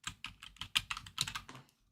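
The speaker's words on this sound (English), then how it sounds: "So I'm like literally just typing them in here." Quick bursts of typing on a computer keyboard, about a dozen close, crisp keystrokes in a rapid uneven rhythm before falling silent, with no talk.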